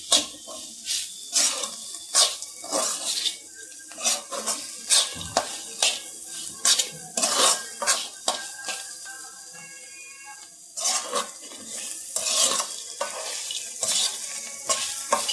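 Bitter gourd coated in spice paste fries and is stirred in a pan for an Andhra-style fry, with steady sizzling broken by repeated scraping stirs, close and fairly loud, no talk.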